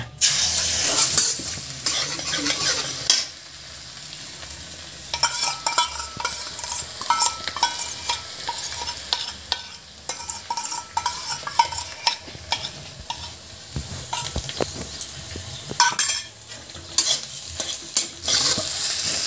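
Onions and chilies frying in a pan, a close crackling sizzle with frequent stirring and scraping of a spatula against the pan in irregular bursts, no talk.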